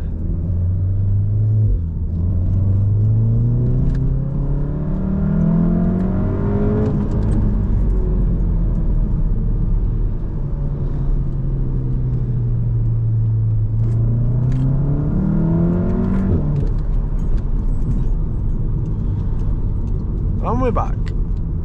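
A VW Golf R Mk7 hatchback accelerating hard on a public road, its engine note rising through two long revving sweeps as it pulls through the gears, with a steady road rumble throughout. Loud, close interior perspective, with a driver speaking over it.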